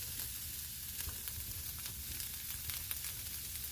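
Hot dogs frying in a pan, a soft, even sizzle with faint crackles and pops throughout, quiet and close, no voices.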